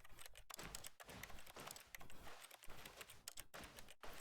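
Computer keyboard typing in The Stanley Parable, a quick, close stream of soft key clicks and clacks running steadily through the whole stretch with short pauses.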